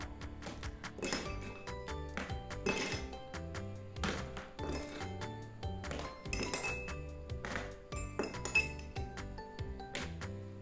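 Ice cubes clink and knock against a glass container in a quick, irregular series of bright, close taps and rattles, heard alone without speech.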